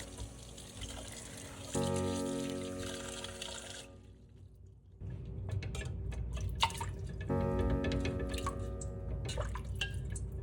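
Water splashing and trickling in a sink as tomatoes are gently rubbed and soaked, with drips, small pours and a short quiet gap in between, close up and without speech.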